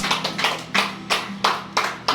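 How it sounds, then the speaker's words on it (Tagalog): A church congregation claps in slow unison, about seven loud, evenly spaced claps ringing out in a reverberant hall, with a low hum beneath. "Palakpakan natin ang Panginoon."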